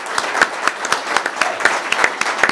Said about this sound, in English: Everybody, please give a big round of applause to you guys.